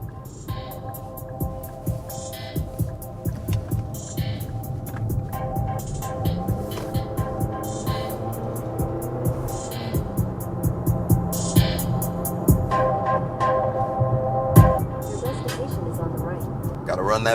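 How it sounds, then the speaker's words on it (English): Music playing through the Bose audio system of a 2025 Nissan Kicks SR, heard inside the cabin with a steady beat and melodic tones, moderately loud and continuous. "We got a Bose audio system."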